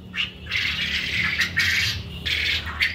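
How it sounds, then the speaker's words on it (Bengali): Japanese quail on a farm call in loud, harsh bursts that repeat close by, with a few shorter chirps between them and no voices. "এগুলো হলো জাপানি জাতের কোয়েল পাখি।"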